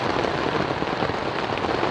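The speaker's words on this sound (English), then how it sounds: "I love sleeping with rain falling gently on my tent like this." Steady rain pattering gently on a tent during a windy, wet August night of solo camping in the Boundary Waters wilderness, a dense, even hiss of drops that continues without pause.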